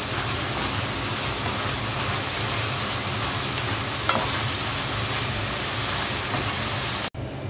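Chicken breasts coated in Cajun spice mix fry in a pan with a loud, steady, rain-like sizzle throughout, one brief clink midway and a sudden dip near the end.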